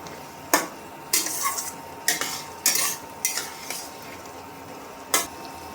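A spoon scrapes and clinks through butter garlic egg curry in a pan, mashed and sprinkled with kasuri methi, in several separate strokes with short pauses, close and fairly loud with no talk.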